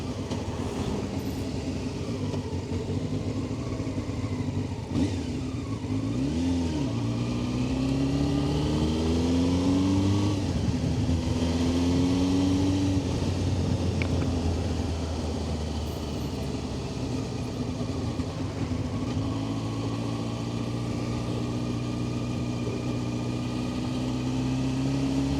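Honda CBR600F motorcycle engine on a ride along country roads, a continuous mid-level drone with the engine pitch rising and falling through gear changes, alongside steady wind rush.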